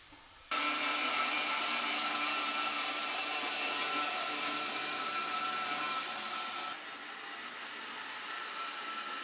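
A power tool cuts through old HID car headlight housings in a garage, a loud continuous whining buzz that starts abruptly, runs steadily for several seconds, then drops to a slightly lower pitch.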